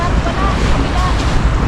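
Ocean surf washes steadily onto a beach while strong wind buffets the microphone with a constant low roar, loud and continuous, with no clear breaks.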